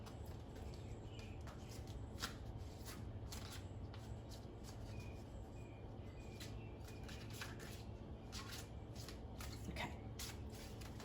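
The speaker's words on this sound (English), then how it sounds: "I'm going to grab the Oracle deck here, and I'm going to pull an Oracle card for us." Oracle cards from an Enchanted Map deck are shuffled by hand, a steady soft riffling and papery flicking with sharper snaps as a card is pulled, close and quiet with no talking.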